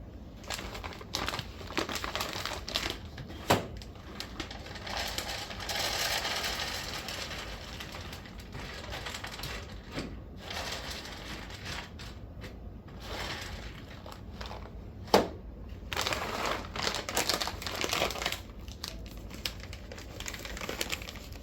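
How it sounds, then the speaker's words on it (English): Dry wood pellets rattle and patter as they're poured into a smoker, a steady crinkly scraping with a few louder clunks, no talking. "First off, I'm going to add some wood pellets."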